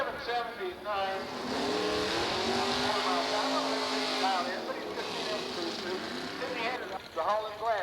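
A drag racing car accelerates down the track at practice, its engine rising in pitch with a gear-change-like swoop, then a second car revving near the end, under an announcer's commentary.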